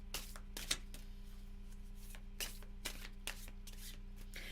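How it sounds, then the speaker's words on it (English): A deck of oracle cards being shuffled by hand, repeated soft riffling swishes and taps at an irregular rhythm, close up over a steady low hum, no voices. "when you shuffle them top to toe, head to toe, not sideways"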